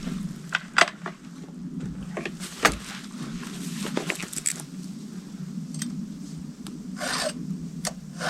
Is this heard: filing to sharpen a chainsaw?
yes